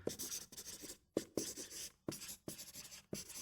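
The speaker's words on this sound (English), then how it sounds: "Let me just write that down for you." A pen writing a name on paper, heard close up as a series of scratchy strokes in short bursts separated by brief pauses, with no talking.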